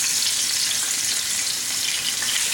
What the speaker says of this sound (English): Be very careful when you put the fish onto the pan.